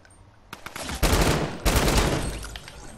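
Gunfire in the video game Fortnite, loud overlapping automatic bursts in two sustained volleys lasting a couple of seconds, close and harsh with no talking over it.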